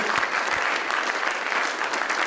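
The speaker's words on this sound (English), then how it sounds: "a warm round of applause for our sponsors." Warm applause from a business event audience at the French Chamber's Made in Asia 2012 gathering, thanking the sponsors; a dense, even wash of clapping sustains for a couple of seconds with no voices over it.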